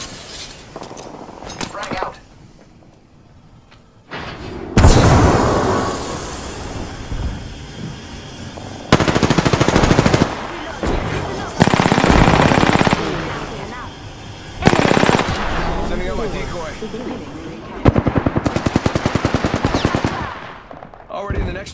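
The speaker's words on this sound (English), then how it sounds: "I am taking fire, friends." Rapid automatic gunfire in the video game Apex Legends, several loud bursts of fast shots separated by short pauses, with quieter stretches in between.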